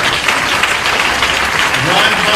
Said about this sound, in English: We're going to give God a hand clap of praise for 100 years, 6 months, and 5 days of life.